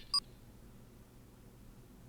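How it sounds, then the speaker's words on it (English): A phone message notification in the Gore Screaming Show game, a single short electronic beep chime, clear but quiet, followed by near silence. "The notification sound indicates he's received the message"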